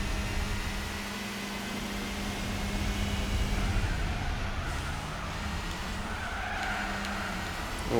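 Drifting car in the racing game Gran Turismo 4, a PT Cruiser, with a continuous loud tire squeal and engine roar that holds steady throughout and never breaks.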